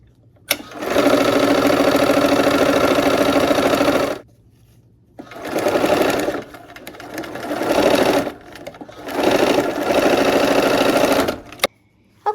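A sewing machine stitches a quilt seam loudly and up close in several bursts. A long first run is followed by shorter stops and starts with brief silent gaps between them.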